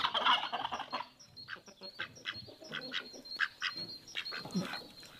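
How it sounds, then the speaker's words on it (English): Turkeys gobbling on a farm, a run of rapid warbling gobbles and clucks from several birds at moderate distance, repeating through the clip without talk. "Now let's look at the animals. She got turkey out there. Turkeys are hard to raise."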